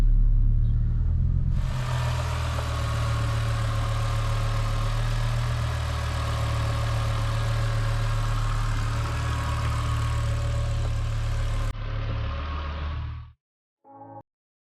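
Rebuilt BMW E60 M5 engine idling steadily just after startup with a single misfiring cylinder, a loud, close, continuous rumble that drops in level near the end before cutting out.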